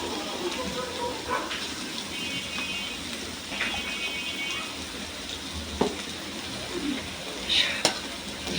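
Ginger and garlic fry with turmeric in a pan, giving a continuous close sizzle with bubbling and occasional stirring clinks and scrapes, while a person talks faintly over it.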